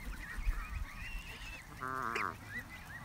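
Geese honk in a nasal, stacked burst near the middle, the birds close by and clear over a low outdoor rumble, with softer calls and shuffling around them.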